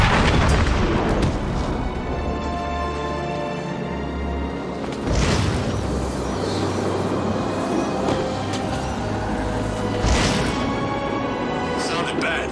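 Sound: explosion like a bomb going off, from video game Batman: Arkham City

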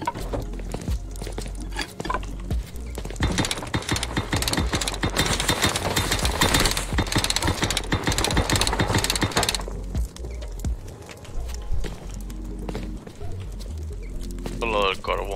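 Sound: hammer hitting objects in Rust video game

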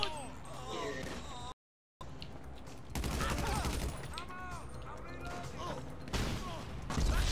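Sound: gunfire in the video game GTA V Online

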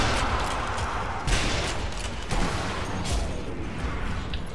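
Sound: gunshots from the video game Sniper Elite NZA

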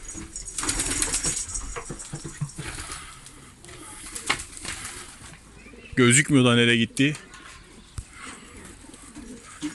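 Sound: pigeons cooing and flapping

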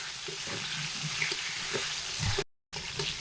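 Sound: potatoes frying in oil

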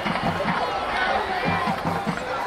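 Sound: tense crowd at a high school football game

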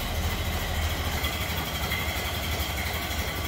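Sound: Model A four-cylinder engine idling

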